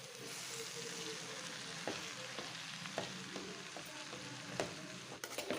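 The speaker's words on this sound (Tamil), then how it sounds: "இந்த மாதிரி கைவிடாமல் அப்படியே கலந்து விட்டுட்டே இருங்க." Restaurant-style vegetable noodles with masala fry in a pan, giving a steady sizzle under repeated scrapes and taps of a spatula tossing them without pause.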